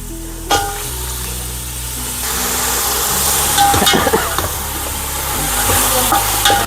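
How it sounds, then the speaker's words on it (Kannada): Chicken pieces sizzle and fry in a pot with oil, onion, garlic and turmeric for a village-style country chicken curry, with a scraping stir and a steady sizzle that swells midway. "ಚಿಕನ್ ಹಾಕ್ಕೊಂಡು ಚೆನ್ನಾಗಿ ತಿರುಗಿಸಿ"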